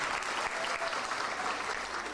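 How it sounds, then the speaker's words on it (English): Applause at a Hindu school graduation ceremony for the class of 2015, a steady, moderately faint burst of many hands clapping throughout. "A last round of applause for the elegantly looking Miss Anita."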